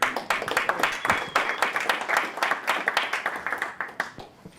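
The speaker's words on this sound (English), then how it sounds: "let's give Trevor a round of applause" An audience applauds with a dense, steady patter of many clapping hands that rises and then tapers off toward the end.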